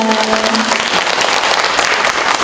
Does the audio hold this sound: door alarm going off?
no